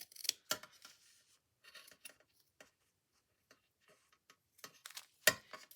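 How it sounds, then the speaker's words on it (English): Scissors cut into a paper bag in a few short, crisp snips and rustles, separated by quiet gaps. The sound is close and fairly faint, with a sharper cut near the end. "So now I'm going to cut."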